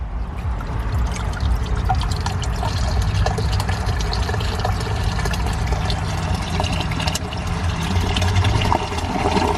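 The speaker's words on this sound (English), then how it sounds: "there's the water coming down." Water pours steadily and loudly into a small backyard aquaponic fish system, a continuous close splashing trickle that holds for the whole stretch with no talk over it.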